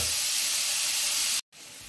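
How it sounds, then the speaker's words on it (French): Squid pieces seasoned with salt sauté in a hot pan, giving a steady loud sizzle and hiss that cuts out for a moment and then comes back. "Hop, on les fait bien sauter."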